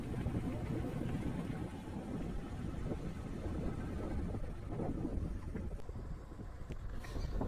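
A motorboat idles at Mettur Dam as it readies to leave, giving a steady low engine rumble mixed with heavy outdoor wind buffeting the microphone.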